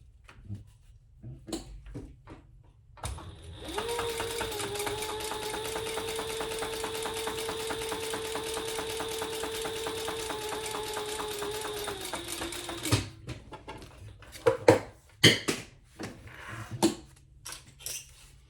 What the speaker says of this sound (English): And now we'll just top stitch that.